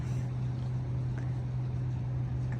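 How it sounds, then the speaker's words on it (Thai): A boat sits on the water at a salmon fishing spot on a cold night. Its low motor hum drones steadily and evenly throughout, with faint broadband noise above it. "เรือนะคะเรือฝรั่ง"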